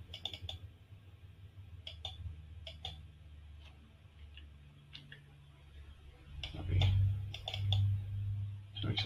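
Sharp clicks repeat in small clusters at a conference talk on MySQL features, fairly close and distinct, with a low hum rising underneath toward the end.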